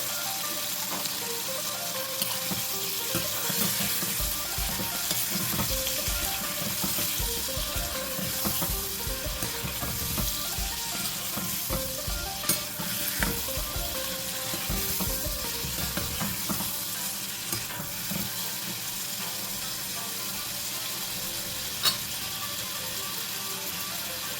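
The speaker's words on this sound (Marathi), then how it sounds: "आता ह्यामध्ये मी घालत आहे हे प्रॉन्स गॅस आपण हाय फ्लेमवर ठेवूया" Prawns fry on a high flame for a Thai green curry, crackling and sizzling steadily up close. Repeated stirring scrapes run through the sound, with no voices present.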